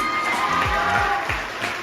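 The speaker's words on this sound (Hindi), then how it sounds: "तो मैं चाहूंगी मेरे टीम के लिए एक बार जोरदार ताली।" Thunderous applause and cheering for a team at a crowded speech event, a dense, continuous wash of clapping with voices mixed in, steady and loud throughout.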